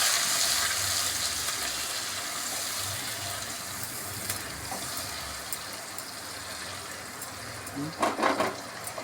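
A ground ginger, green chilli and tomato paste hits a hot pan for dal goppa, giving a steady, dense hissing sizzle that fades slightly, with a voice talking over it and a few clinks near the end.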